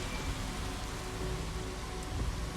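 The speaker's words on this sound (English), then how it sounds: "Out into the rain." Steady rain falls in the Jurassic World Evolution video game, a dense, even hiss of raindrops with a low rumble underneath, continuous throughout.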